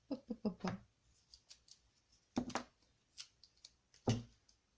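Scissors cutting paper for a beginner's photo album: sharp snips in a quick burst, then a few isolated cuts, close and crisp in a quiet room.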